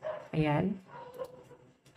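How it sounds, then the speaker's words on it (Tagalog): A dog gives one short, fairly close bark before quieter indoor background sound, with a brief word spoken just before it. "Pasensya na po sa tahol ng mga aso."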